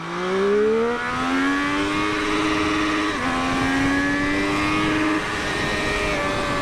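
A 2023 Triumph Street Triple 765RS motorcycle accelerates hard in first gear, its engine note climbing steadily through the revs with one brief dip before rising again, loud and close without any talk.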